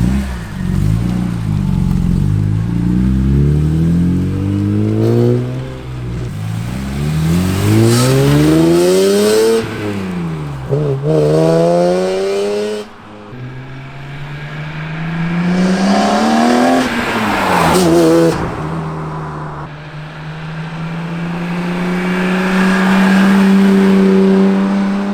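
BMW E46 M3 inline-six revved repeatedly in sweeping rises and falls, its exhaust giving a loud, raspy, metallic edge, each climb peaking then dropping back to a steady idle, close and with no talking.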